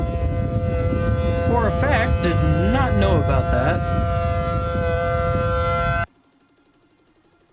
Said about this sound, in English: Sorry about tuning y'all back in at the loud siren